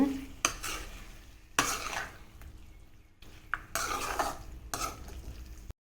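Half a kilo of chicken sautéed in a pan for pepper chicken roast, with repeated bursts of scraping and stirring over a steady sizzle, close and fairly loud, separated by brief quieter pauses.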